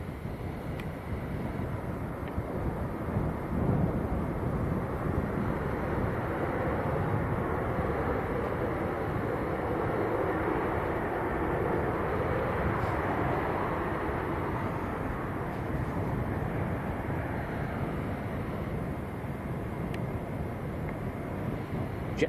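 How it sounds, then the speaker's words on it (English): A Jet2 airliner arriving at Manchester Airport after landing, heard as a steady, broad roar of engine and wind noise that holds at a fairly even level for the whole stretch, with no talk over it. "Jet 2 just arrived from Reyes."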